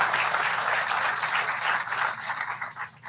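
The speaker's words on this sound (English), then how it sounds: "give Steve a round of applause too." An audience at a downtown Kalamazoo event center groundbreaking applauds for Steve: a dense, even round of clapping from many hands, fairly close, tapering slightly toward the end.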